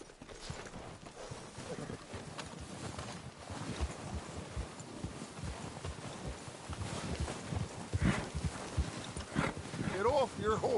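Horse hooves clop in a steady rhythm through a tense stealth scene in a PS4 video game, a mid-level patter mixed with wind, ambient game sound and voices talking over it.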